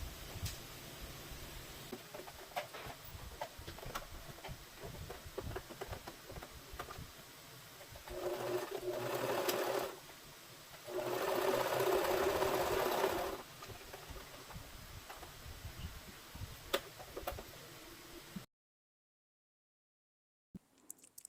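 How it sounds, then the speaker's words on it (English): A sewing machine runs a straight stitch joining overlocked fabric pieces in two short bursts of whirring, fairly faint, between quieter stretches of soft handling noise, and then everything falls silent. "that would be the time when I will be attaching them together with the straight stitch"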